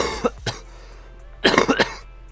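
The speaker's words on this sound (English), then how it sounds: "I'm still coughing a little bit." A Zenless Zone Zero character gives a few short coughs, two separate ones first, then a closer cluster of harsher coughs, with no other sound.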